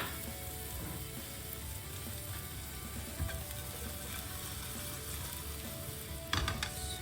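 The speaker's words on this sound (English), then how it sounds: "sauteing them for a few seconds" Garlic and chili with chili flakes sautéing in a pan, a faint, steady crackling sizzle with a few brief clicks of stirring near the end.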